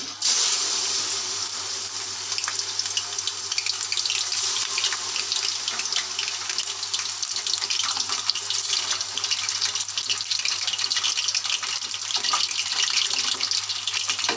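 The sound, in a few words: chicken frying in hot oil in karahi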